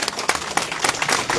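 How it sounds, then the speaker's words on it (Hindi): Audience applause welcoming a village sarpanch at a political gathering in Surankote, a brief burst of scattered hand claps from a crowd, moderately loud, continuing steadily for a moment with no voices. "इनको तालियों से इस्तकबाल किया जाए।"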